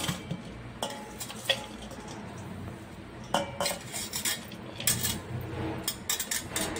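Chopped onion, carrot, capsicum and green chilli for a veg momo filling are mixed in a bowl, a spoon clinking and scraping against the sides in irregular close bursts.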